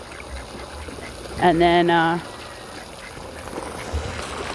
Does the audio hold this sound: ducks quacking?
yes